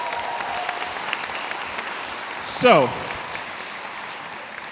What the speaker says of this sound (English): I want a round of applause for everybody who asked a question today